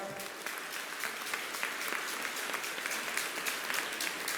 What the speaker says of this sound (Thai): ขอเสียงปรบมือดัง ๆ ให้กับสปปสครับ